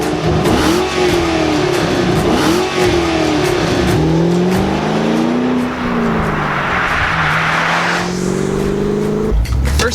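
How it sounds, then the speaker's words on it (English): A 2008 Ford Mustang Shelby GT500 on the road, its engine loud and close, revving up and falling back through several gear changes with steady road and wind noise underneath. "So now it's time to get this GT500 on the road and see how she does."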